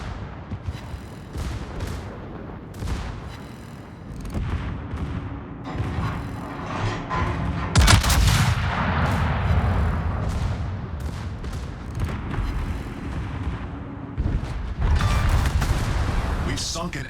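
Warship guns fire in World of Warships during a naval station defense operation, with the USS Ohio battleship in action. Repeated loud booming salvos rise over a dense, constant rumble of battle, and one especially heavy blast lands near the middle.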